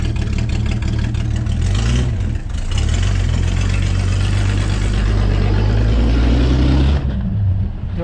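Engine of a Brazilian-built Furlan Type 51 Bugatti replica pulling away, loud and close, a steady rumbling drone that rises in pitch as it accelerates, then eases off near the end.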